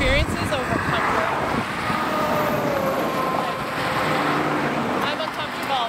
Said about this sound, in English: these noisy cars going by